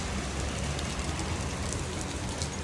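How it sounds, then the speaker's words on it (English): Rain pours in Cancun, a dense, even hiss of drops hitting surfaces that holds steady throughout, fairly loud and with no voices. "then it started raining"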